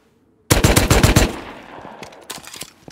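Rapid automatic gunfire in a shooter video game rings out in a loud burst of about eight close, sharp shots, then trails into scattered fainter shots and echoes; no voices.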